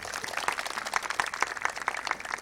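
Audience applause at a religious gathering, a guru's birth celebration yajna at Vaishno Devi: dense, steady clapping from many hands, moderately loud and continuous throughout with no talk over it.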